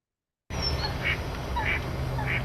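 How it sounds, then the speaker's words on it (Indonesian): Starling calls played back through a speaker come as loud, harsh repeated bursts, about three in a row, with thin whistled notes over a steady hiss. "Oke ya, ini burung starling."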